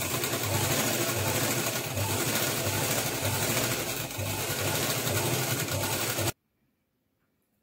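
A sewing machine runs steadily as a half-inch seam is stitched along a folded-back neckline edge of a party-wear frock, loud and continuous for about six seconds, then stops abruptly into silence.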